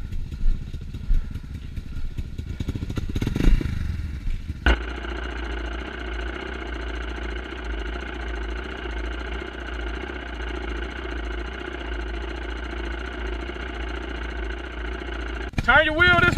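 A Yamaha Raptor 700 ATV engine idles nearby on a trail with a steady, even drone that runs for about eleven seconds. Earlier there is louder rumbling under voices, and the clip ends with a rising rev.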